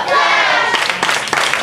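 A wrestling crowd at a High Impact Wrestling TV event cheers and claps loudly and continuously, with sharp claps and shouts rising through a dense wash of voices.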